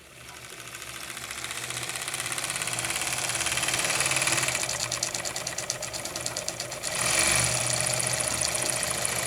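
Live steam engine from an Osprey drifter set with regulator, running in a rapid, even mechanical chatter that holds steady and picks up slightly near the end, with no voices over it.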